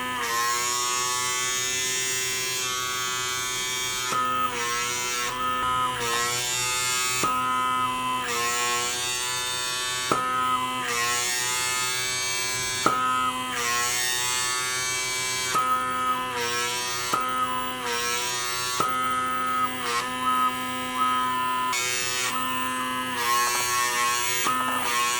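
A Personal Microderm PRO microdermabrasion device running on oily skin, a steady close electric buzz with a pumping suction pulse that repeats for the whole stretch, no talk.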